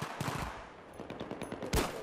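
Magnum gunshots ring out in a Battlefield 3 multiplayer match: a series of loud, sharp cracks in quick bursts, with a heavier final blast near the end.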